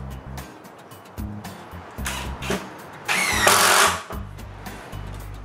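A power drill bores pilot holes in wood while window frames are built for a new workshop, several short bursts of whirring, one longer and louder whining run near the middle, with low rumbling pauses between.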